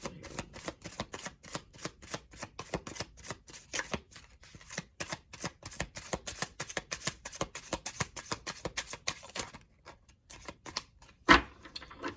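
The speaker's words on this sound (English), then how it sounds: "let's give this one more shuffle here." Oracle cards being shuffled by hand: a fast, steady run of crisp papery clicks and riffles, close and fairly quiet, with a short pause and one sharper snap near the end.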